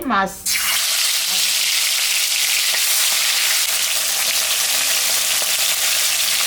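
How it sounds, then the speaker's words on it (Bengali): Mrigal fish frying in hot oil gives a loud, steady, dense sizzle that starts with a brief burst and then holds unbroken, close up, with no talking. "মাছটা ভাজা হয়ে গেছে।"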